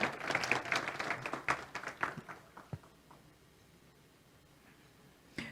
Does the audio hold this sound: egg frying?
no